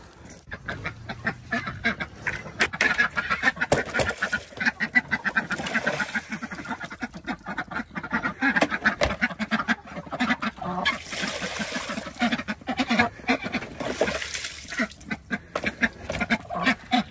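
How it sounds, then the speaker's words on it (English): Ducks on a farm quack repeatedly in loud, uneven bursts close by, with some goose-like honks mixed into the noisy flock. "Let's go see your duck buddies."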